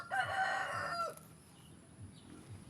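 A rooster crows once, close and clear, the call lasting about a second before dropping away to faint background sounds and soft clucking.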